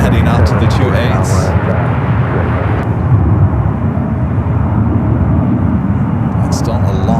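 Air China Boeing 777 taxiing out for takeoff at San Francisco airport, a loud continuous jet engine roar with a strong low rumble, heard under someone talking.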